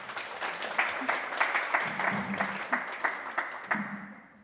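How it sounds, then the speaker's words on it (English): Faint, fairly distant applause for Karina at a small talk gathering, with steady light clapping and a few sharper individual claps popping out across the four seconds. "Can we have a little applause for Karina?"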